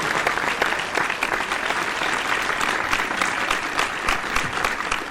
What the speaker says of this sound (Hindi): जोरदार तालियों से इस्तकबाल कर लीजिए जनाब यासिर खान।